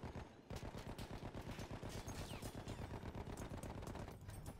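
Light machine gun fire in the video game Battlefield 1 rattles in long rapid bursts, a steady stream of sharp shots with a brief pause near the start, loud and close.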